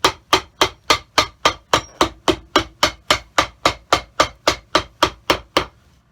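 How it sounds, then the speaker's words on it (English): Steady, evenly spaced hammer blows on leather, about fifteen sharp thuds in a row, close and loud with no talking. "tone the hammering noise down"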